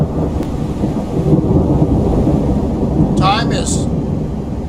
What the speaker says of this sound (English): I'm going to have me a Hershey Kiss while we listen to the water and the thunder